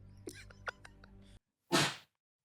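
A single sharp, loud sneeze bursts out after a moment of indistinct voice and a brief silence.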